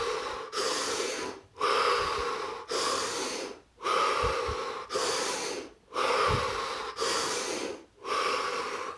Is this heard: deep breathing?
yes